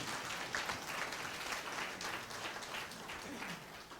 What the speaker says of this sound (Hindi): तालियां बजा के प्रभु का धन्यवाद कीजिए।